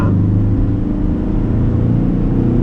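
A 2021 Ford Ranger XL Street Special Edition pickup pulls away from a start, a steady loud engine drone and rumble heard from inside the cab.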